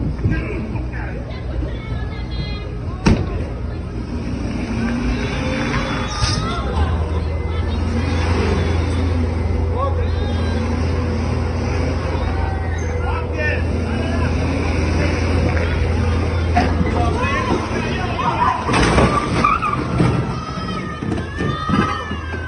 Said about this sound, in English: This dude is just annihilating the entire city block with his precious truck that he went to such lengths to try and protect.